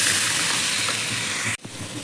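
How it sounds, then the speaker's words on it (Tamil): A little water poured into a pan of jackfruit seed masala, a steady broadband hiss for about a second and a half, then a sudden stop and a brief quieter splash. "இப்போது கொஞ்சமாக தண்ணி ஊற்றிக்கிறேன்."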